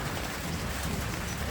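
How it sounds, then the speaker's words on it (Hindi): Rain falls steadily on a hillside along a mountain road in Nepal, a dense, even hiss with no distinct drops or voices, filling the brief moment at moderate loudness. "और सिर्फ इसी पहाड़ी पे बारिश हो रही है,"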